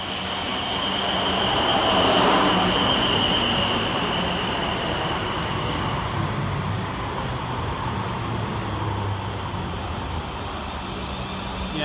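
A five-carriage passenger train rumbling steadily along with broadband rolling noise and a faint high tonal whine, constant and fairly close throughout.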